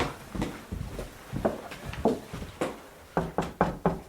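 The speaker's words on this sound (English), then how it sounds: "Knock on his door." Knocking on a door in a 2002 radio drama of Dostoevsky's The Idiot: scattered soft taps, then a quick run of four sharp, close knocks near the end, with no talk.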